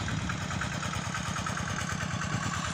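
A walking tractor engine runs in a vegetable garden, a steady, close, rapid chugging idle that holds even throughout.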